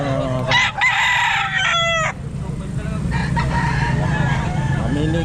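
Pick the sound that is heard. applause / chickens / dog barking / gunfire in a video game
chickens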